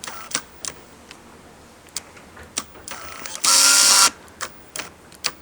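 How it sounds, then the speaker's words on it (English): A vintage Nikon AF Nikkor 70-210mm f/4-5.6 zoom lens focuses with a short, loud whirring burst of its autofocus drive. Scattered small mechanical clicks and taps come before and after it in a quiet kitchen. "Now listen to the focusing. I'm gonna put the focusing on now."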